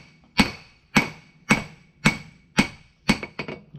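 A hammer strikes hot steel while forging the bevel of a patch knife, six sharp, evenly spaced ringing blows followed by a couple of quicker lighter taps, each one ringing briefly before it fades.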